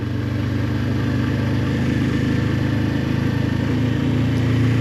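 A motorcycle pulls away from a stop as the clutch is let out with a little throttle, a steady, close mid-pitched engine hum and rumble that swells slightly toward the end, with no voices.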